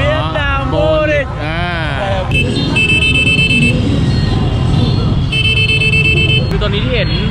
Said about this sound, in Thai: ตอนนี้ที่เห็นบีบแตรเยอะๆอ่ะไม่ใช่ว่าเขาด่าอะไรกันนะเขาเฉลิมฉลองกันอยู่นะครับ